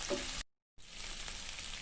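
Garlic and ginger paste fry in a pan in a steady, hissing sizzle, briefly interrupted by a short dropout before the frying noise resumes.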